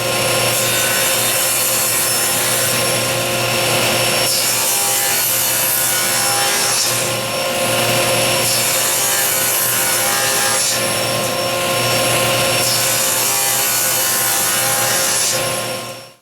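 Wooden workbench boards are crosscut to length with a loud, steady power saw whining close by, holding a sustained high tone with brief dips between cuts and fading out at the end.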